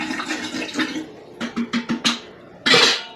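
Water being poured into a filter container, a few short sloshing splashes in a quick burst, then a louder gush near the end, close and without talk.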